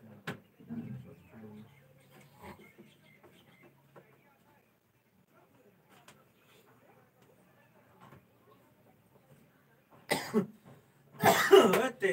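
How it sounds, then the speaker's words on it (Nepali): After a long, mostly quiet stretch with scattered faint sounds and soft voices, a person gives a few loud, harsh coughs close by near the end. "म खोक्छु तपाईँ पनि खोक्नुहुन्छ"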